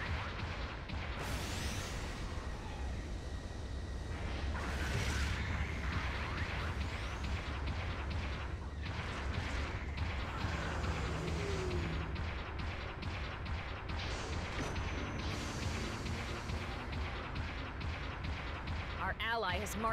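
Artillery supporting fire in a Gundam video game booms and rumbles in heavy bursts over a dense mix of weapon fire and battle noise, with a game voice speaking over it.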